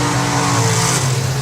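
Drag racing car running down the strip, Andy Bond's run, lifting at 330 feet and braking: a loud, steady engine roar with strong low rumble sustained throughout, close and continuous, with no talking.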